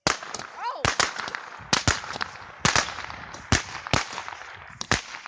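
New Year's fireworks and firecrackers go off at night, sharp irregular cracks and pops repeating rapidly over a continuous crackling background, fairly close and loud.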